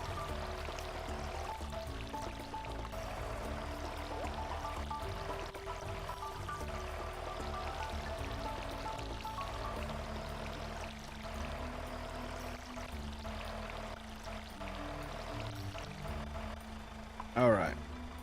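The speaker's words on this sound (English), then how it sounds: "Water in our crops here." Crops being watered in the Stardew Valley farming game: a soft, steady pouring wash over the game's background music, with a brief louder splash near the end.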